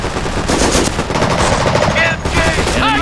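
Machine-gun fire from a Company of Heroes battle at Arnhem during Market Garden: a loud, unbroken rattle of rapid rounds, close, with soldiers shouting under the din.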